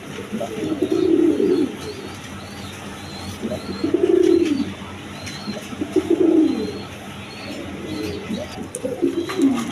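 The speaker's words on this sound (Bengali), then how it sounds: "এখানে এক পেয়ার টিউলিপ কবুতর আছে" Pair of tulip pigeons nesting on two eggs, cooing in four loud, close rolling bursts spaced a couple of seconds apart, with faint chirps between.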